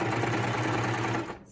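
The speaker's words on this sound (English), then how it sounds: "sewing machine, making sure to hold the other side back underneath it so it doesn't stitch over it" Close, steady whir of a serger with woolly nylon thread stitching knit fabric for a headband, running continuously for over a second before cutting off.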